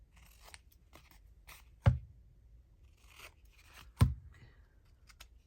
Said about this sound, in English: Might as well do my corner snipping now.